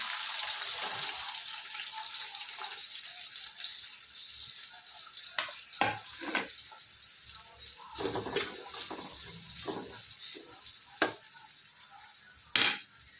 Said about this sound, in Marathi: अगोदर मी कांदा तळून घेणार तेल टाकलं थोडंसं